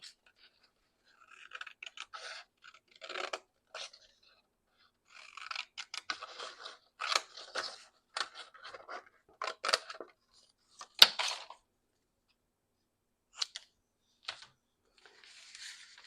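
Scissors snipping through paper scraps for an art-journal house, quiet irregular bursts of short cuts separated by pauses, close up with no talking.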